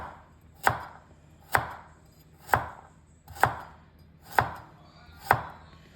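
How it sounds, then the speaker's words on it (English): A knife chops vegetables for a vegetable korma on a cutting board, six evenly spaced crisp thuds at a steady unhurried rhythm, close and clear with no talk. "You can then chop them into half, so you pretty much get the similar size, so they all cook evenly."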